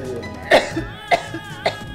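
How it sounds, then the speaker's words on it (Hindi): Three short, sharp coughs at spaced intervals, close and fairly loud, over a faint background hum. "जब भी कोई खुशी की खबर सुनती है फौरी खांसी लग जाती है"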